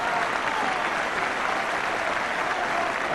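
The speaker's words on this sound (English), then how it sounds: "And I think most of the applause is for the number 10." Sustained applause from a large football stadium crowd at a 1981–82 Tottenham Hotspur versus Manchester United league match, a dense, even wash of clapping and cheering that holds steady throughout.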